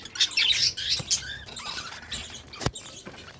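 Hand-raised pet birds give quick, high-pitched chirps and squeaks in irregular bursts, close by, with light pattering movement and a sharp knock partway through.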